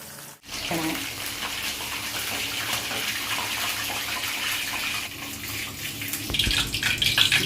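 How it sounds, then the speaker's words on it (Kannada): Garlic kebabs deep frying a second time in hot oil give a steady, dense hiss and crackle that runs throughout and swells slightly toward the end, with no talking. "ಇದಂತಹ ಕಬಾಬ್ನು ಇನ್ನೊಮ್ಮೆ ಎಣ್ಣೆಗೆ ಡೀಪ್ ಫ್ರೈ ಮಾಡಿ"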